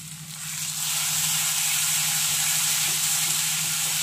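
Cumin powder and red chili powder sizzle in a pan while being stirred for prawn malaikari, making a loud, continuous close hiss over a low hum.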